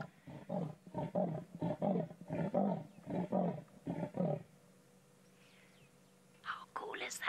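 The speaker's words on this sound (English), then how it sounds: "That is what a leopard's roar sounds like." A leopard's rasping sawing call at sunset, a rhythmic series of about ten harsh grunting breaths, close by, followed by quiet and faint rustling.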